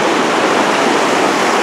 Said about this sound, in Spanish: con esa bullita del río